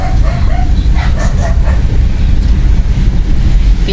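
Dog barking near a wet market, a few sharp close yips and barks early on, over steady wind buffeting and low rumbling background noise.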